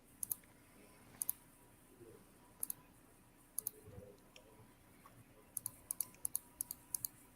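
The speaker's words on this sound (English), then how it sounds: "I hear a lot of clicking." An AOS CNC micro bending machine working wire gives off faint, scattered sharp clicks, some single and some in quick clusters, over a quiet room hum.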